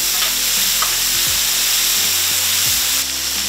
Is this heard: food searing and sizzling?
yes